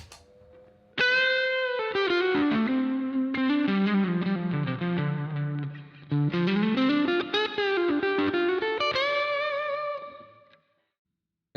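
An electric guitar runs through a Tube Screamer overdrive into a Boss RV-500 set to SRV room reverb. Driven chords and melodic lines with boosted mids ring into a roomy reverb tail, sustaining before fading to silence at the end.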